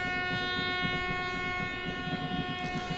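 A passenger train runs at night, heard close up from an open carriage door as a continuous loud rumble with rhythmic wheel clatter and a steady high mechanical whine, with no voices.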